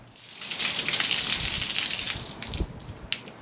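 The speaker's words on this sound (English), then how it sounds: "Turn on the water." Garden-hose water rushes through a flush gun into the engine block of a 2001 Toyota Tacoma, a steady close hiss and gush for a few seconds with a couple of sharper splashes near the end.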